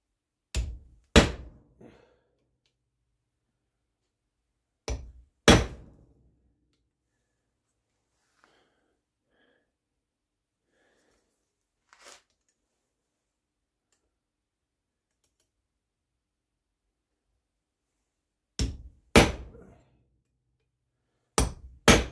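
Sharp metallic hammer taps on brass corners ring out in short pairs separated by long silent gaps, close and crisp.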